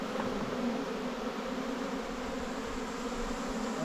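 Honey bees swarm around their hives in a dense, continuous buzzing drone that holds close and even throughout, with no voices.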